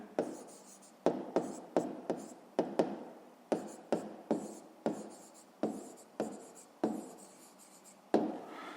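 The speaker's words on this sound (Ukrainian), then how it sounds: "записуємо відповідь" Pen writing a math answer on paper, about a dozen distinct tapping strokes in a fairly even rhythm, close and clear against a quiet background.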